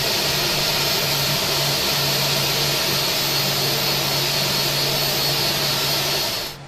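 An airliner jet engine in Microsoft Flight Simulator X roars steadily and loudly, with a broad rushing hiss over a low droning hum, holding level before cutting off at the end.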